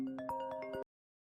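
A short melodic phone ringtone plays a few bright rising tones over a steady hum, then cuts off abruptly after less than a second.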